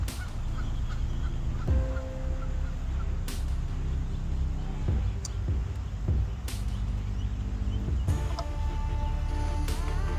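Swans and ducks gathering for food give repeated honking, gobbling calls over a steady outdoor rumble, loud and close, with several sharp call bursts spaced through the scene.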